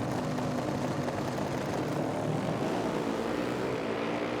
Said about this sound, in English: the very distinctive sound of that V-twin Buell blasts away from the start line